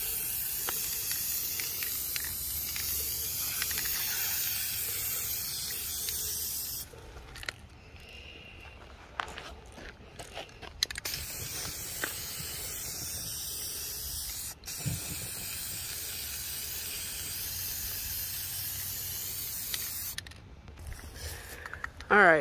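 Spray paint can hissing out a third coat onto a metal file cabinet, a steady close spray for about seven seconds, then shorter bursts with pauses, ending in a final loud burst.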